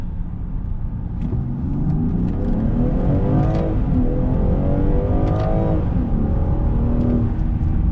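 A Land Rover Defender 90 accelerates up a highway on-ramp, its engine note climbing steadily through several gear changes with a loud, close drone and road rumble underneath.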